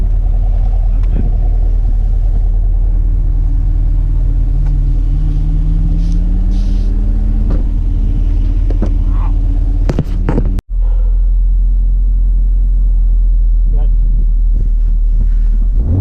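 A 2018 Chevrolet Camaro 1LE with low mileage is driven hard on track, its engine rumbling loudly inside the cabin and rising in pitch through the gears before a sharp break near the end, while occupants talk.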